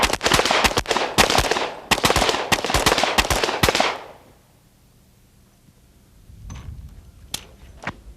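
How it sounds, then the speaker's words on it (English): Rapid gunshots at targets in a 1994 shooting competition, a fast loud burst of sharp cracks for about four seconds, then quiet before a few more distant shots. "They've got 3 shots on each target."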